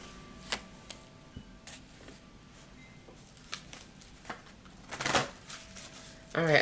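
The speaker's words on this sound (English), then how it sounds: "let's pull some energy cards" Tarot energy cards being shuffled and drawn, heard as soft scattered riffling and light flicks with a denser burst of card noise near the end, fairly quiet against low room noise.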